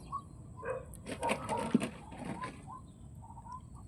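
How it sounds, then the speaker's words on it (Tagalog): Many birds calling outdoors on a fishing trip, a busy scatter of chirps and calls at moderate distance over faint background hiss, with no one speaking. "Daming ibon."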